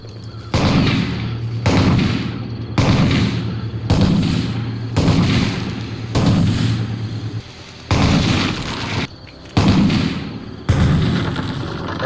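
Shotgun fire during a raid in the video game Rust: a series of about ten loud, booming blasts at a steady pace, each about a second apart, with brief gaps between them.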